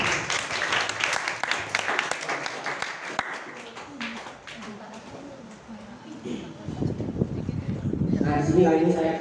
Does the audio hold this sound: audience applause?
yes